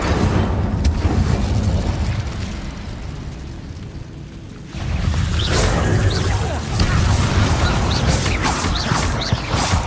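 Casting the Incendio fire spell in Hogwarts Legacy unleashes a loud, roaring, fiery burst that dips briefly and then surges back, dense and continuous amid other game sound effects.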